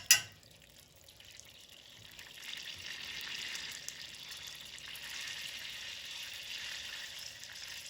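Brown sugar glaze of melted butter bubbling hard over high heat in a pan, a steady fizzing sizzle after a brief clink, close but quiet, with no talking.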